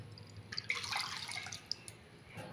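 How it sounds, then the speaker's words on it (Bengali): Water is poured into a bowl of sugar, two bowls of water to one of sugar, to make syrup for gaja sweets: a faint, brief splashing trickle with a couple of small drips, quiet and alone. "এই 1 বাটি চিনিতে আমি 2 বাটি জল দিয়ে দেব।"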